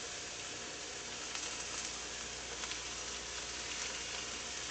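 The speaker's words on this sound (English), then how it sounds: "And the sizzling begins." Pork chops sizzle steadily in a frying pan, a loud, even crackle that holds without pause.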